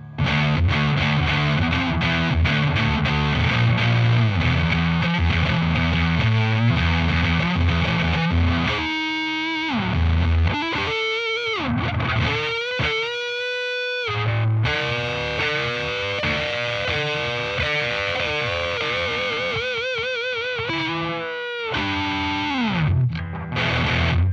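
An electric guitar plays through an Arion Metal Master distortion pedal, gritty with crackle, with chords and sliding bends, loud and continuous with a few brief gaps between phrases.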